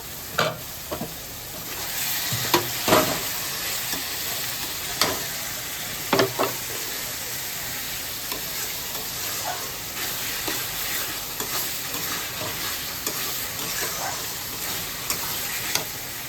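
Tangra fish curry spices being stirred and fried in a pan, with a steady sizzle beneath irregular utensil scrapes and a few sharper clinks, close and moderately loud, with no talking.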